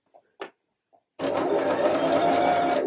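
A sewing machine runs a zigzag stitch over a trouser edge, starting after a few faint clicks and then whirring steadily and close for almost two seconds.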